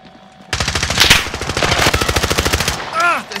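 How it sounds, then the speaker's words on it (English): Rapid automatic gunfire from a Warzone battle royale match starts abruptly after a quiet moment and rattles on in a fast, even burst for about two seconds, loud and close, followed by a brief whooshing sweep. "Ah, they're shooting at me."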